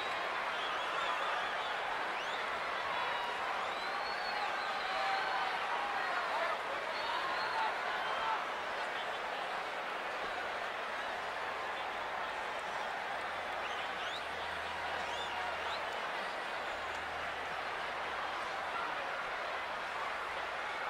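A virtual arena crowd roars steadily during a WWE 2K20 women's match between Sasha Banks and Bianca Belair on PS4, a dense continuous cheer and applause wash with no break.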